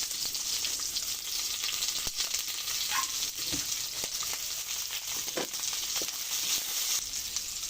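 Onions fry in rendered pork fat in a pan, producing a continuous bright sizzle up close. A few stirring clicks and spatters break through.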